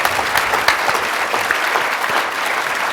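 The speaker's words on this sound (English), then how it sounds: "let's give the panel a round of applause" Loud, close applause from a conference audience for a discussion panel, with many hands clapping in a dense, continuous burst throughout.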